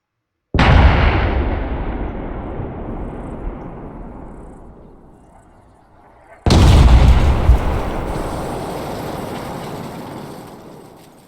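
Two heavy howitzer blasts in ArmA 3, the first at about half a second and the second near six and a half seconds, each a loud booming burst that decays slowly into a long rolling rumble.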